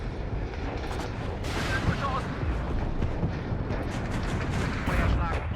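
Mortar and artillery fire in the Cold War strategy game WARNO, a steady rumble of distant booms and blasts running throughout, with German radio voice chatter over the top.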